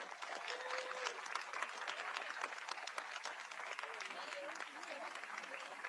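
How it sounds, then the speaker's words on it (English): Sustained applause from a crowd at a Pierce County, Washington community celebration, dense steady clapping throughout with a few voices faintly rising underneath. "Let's give everyone a round of applause."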